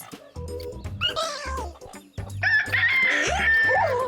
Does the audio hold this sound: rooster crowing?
yes